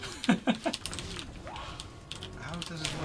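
Computer keyboard typing during an online game session, a few loud close key clicks early then lighter irregular tapping, with voices talking over it.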